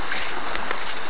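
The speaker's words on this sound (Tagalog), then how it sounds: "Boat or motor bangka na maghahatid sa atin doon mismo sa laot na pupuntahan natin." Motor bangka out at sea off Calajo-an, Minglanilla, Cebu, a dense, continuous roar of engine and rushing wind and water, loud and close, with no pauses.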